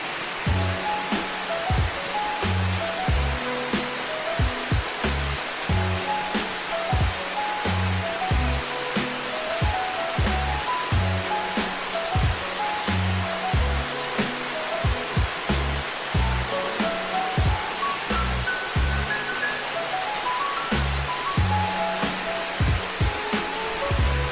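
A waterfall in Ourense, Galicia, gives a steady, full rush of falling water that stays constant throughout. Rhythmic music plays over it.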